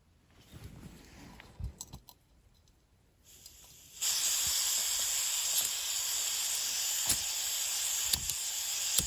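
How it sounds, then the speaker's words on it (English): A small backpacking stove lights at a backcountry tarp camp in Utah and settles into a loud, steady hiss, after a few seconds of quieter handling and fumbling beforehand. "There's my little stove."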